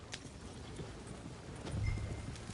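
Horses trotting in Red Dead Redemption 2 as a gang of outlaws rides out at night, soft, steady hoof clops under a low rumbling ambience, fairly quiet and somewhat distant, with no voices.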